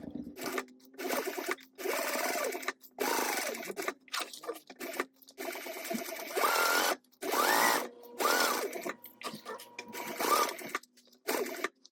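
A sewing machine stitches a wristlet through thick material in repeated bursts of fast whirring, stopping and starting, with brief pauses between runs and faint talk at points.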